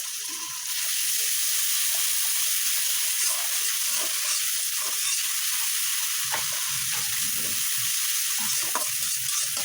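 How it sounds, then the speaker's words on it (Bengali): Chopped onions frying in hot oil with ginger-garlic paste for a pangas fish curry with potato and tomato: a loud, continuous hissing sizzle with scattered crackles and a few stirring scrapes, close up. "পেঁয়াজগুলো ভাজা হয়ে গেছে, এখন দিয়ে দেবো আদা রসুন বাটা।"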